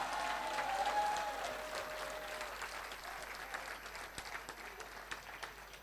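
A church congregation applauds for the bishop, a dense wash of many hands clapping that swells early and then slowly thins out, with no voices on top.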